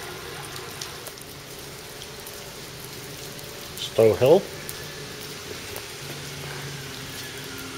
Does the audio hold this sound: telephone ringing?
no